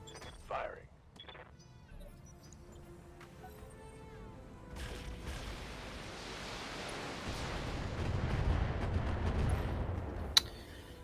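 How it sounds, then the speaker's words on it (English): Mech weapons firing in the video game BTA 3062, a rising, dense roar of gunfire and blasts that builds over several seconds and ends with a sharp crack, with faint talk early on. "Firing."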